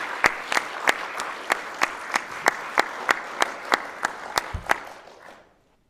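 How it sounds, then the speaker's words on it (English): A conference audience claps for a panel of lawyers: sparse, crisp hand claps land in a fairly regular beat, about a dozen and a half, before fading to silence, with a brief spoken word near the end. "a strong applause to our panelists."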